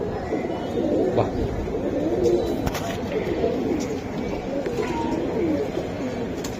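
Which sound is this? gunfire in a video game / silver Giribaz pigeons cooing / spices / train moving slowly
silver Giribaz pigeons cooing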